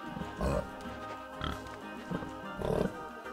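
A babirusa in a zoo-building video game mod gives a few short, snorting pig-like grunts at close range, spaced about a second apart over a low ambient background.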